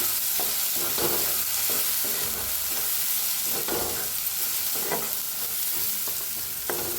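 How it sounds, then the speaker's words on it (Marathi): Onion and tomato frying with turmeric, red chili and garam masala, stirred in a pan: continuous close sizzle with repeated scraping strokes at an uneven rhythm. "कांदा टमाटो छान भाजले त्याच्यात टाकूया अर्धा चमचा हळद लाल तिखट गरम मसाला मिक्स करूया"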